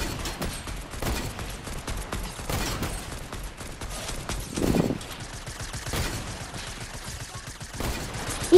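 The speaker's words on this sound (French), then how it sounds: "il y a quelqu'un qui essaie de me tirer dessus" Gunfire in Fortnite on PS5, bursts of fairly close shots spaced irregularly over a busy game soundscape, with one heavier thump midway and a sharp crack at the end.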